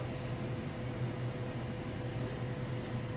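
A microwave oven runs on auto defrost, heating a leftover hamburger or hot dog, giving a steady, close hum with a low mechanical drone and fan-like whoosh that holds unchanged throughout, with no voices.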